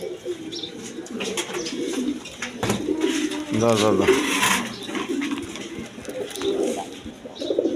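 A pair of high-quality pigeons cooing at a pigeon seller's stall, soft repeated coos mixed with chirps amid a busy, noisy background while someone talks nearby.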